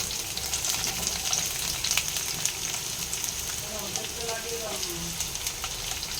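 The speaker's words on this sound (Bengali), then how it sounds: "এবারে পেঁয়াজ দিয়ে দিলাম" Onions and green chillies frying in a pan for a kalmi greens dish, a steady sizzle and crackle running throughout at moderate level, with faint stirring.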